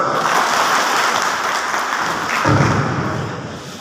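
Loud, sustained applause fills a hall at a bar association swearing-in ceremony for a newly elected executive committee, dense clapping that swells slightly near the end and plays alone without speech.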